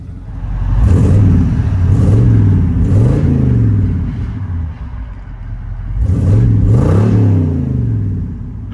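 A 1985 Chevy K5 Blazer Z/71 with a 5.7L V8 and Flowmaster Flow FX exhaust revs repeatedly from inside the cab, deep rising and falling engine swells in two clusters of rhythmic blips, loud and close.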